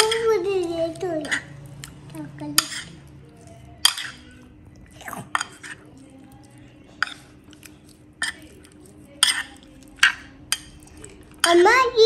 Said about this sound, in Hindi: अब इसको अच्छी तरह से मिक्स कर लूँगी।